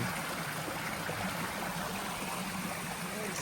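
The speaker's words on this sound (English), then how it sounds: "The sound of water is just the best ambience in the world" Water flows steadily in a stream, a constant broad rushing babble with no voices.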